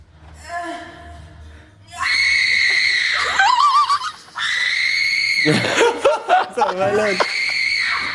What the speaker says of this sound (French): Regardez comment il crie.